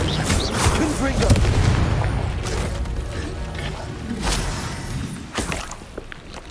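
The Confringo blasting spell explodes in the Hogwarts Legacy video game, giving a loud, sustained booming blast with crackling debris and a second burst later on.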